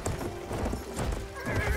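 A horse gallops with rapid clip-clop hooves and neighs in the World War I shooter Battlefield 1, the hoofbeats steady and close with a whinny rising near the end, game effects layered underneath.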